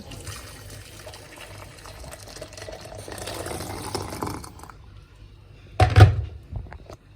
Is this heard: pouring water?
yes